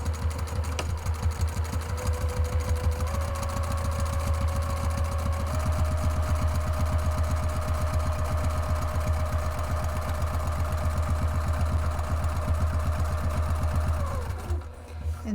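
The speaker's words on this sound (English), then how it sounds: "sew up the right hand side using the 5/8 of an inch seam allowance" Sewing machine stitching a bag flap seam, running continuously and loudly up close with a steady hum and rapid rhythmic needle strokes, slowing to a stop near the end.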